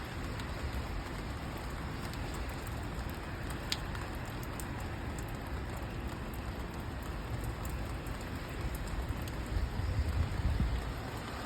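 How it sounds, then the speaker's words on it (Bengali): Heavy rain pours down steadily, a dense, even hiss of drops that stays loud and unbroken throughout, with no voices or other sounds rising above it. "ভালো একটা বৃষ্টি হইতেছে মাশাআল্লাহ"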